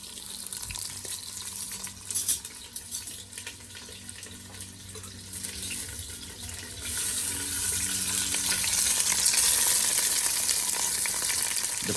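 Wagyu beef searing in a very hot pan at a backyard cook-up in Guyana, a hiss that swells into a loud, steady sizzle after being turned, with scattered clatter before it builds.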